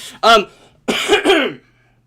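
A person coughs up close, one sharp bark followed by a rougher double cough, then quiet.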